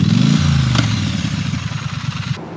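A Triumph Street Scrambler motorcycle passes close, with a loud engine note falling in pitch, then a throbbing, pulsing exhaust beat that fades slightly before cutting off.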